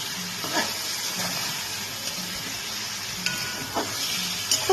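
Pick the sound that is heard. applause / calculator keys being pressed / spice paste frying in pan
spice paste frying in pan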